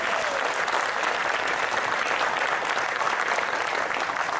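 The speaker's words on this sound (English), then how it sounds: "Please give them a round of applause for all of their accomplishments." An audience at an alumni spring reunion ceremony claps steadily and loudly, a dense, even wash of applause that holds for several seconds without fading.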